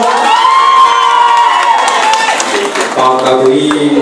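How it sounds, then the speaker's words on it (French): Audience cheering and shouting at a Miss Prestige Réunion beauty pageant, with loud, continuous crowd noise and sustained high voiced whoops, and some applause mixed in underneath. "sous les applaudissements"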